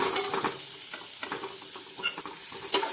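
A snack made from leftover rice is tipped into a pan of sizzling masala cooked in a spoonful of oil and stirred, with a close, steady frying hiss broken by repeated scraping strokes and light clinks.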